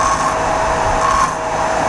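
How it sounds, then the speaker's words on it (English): Grinder steadily beveling the last thread of a hardened race-car bolt, a continuous close whine running unbroken for the whole stretch with no voices. "Grind a light bevel on that."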